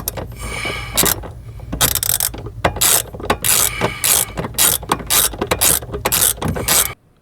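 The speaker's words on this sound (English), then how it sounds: "I've gone ahead and loosened the two fasteners or nuts, the one in the middle leg and the one at the bottom leg of the bracket" A ratchet clicks rapidly in quick repeated strokes as it loosens nuts on an EPS module bracket, close and crisp, then stops abruptly.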